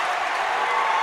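A college men's basketball crowd cheers and applauds in a dense, loud burst of roaring noise right after a made basket.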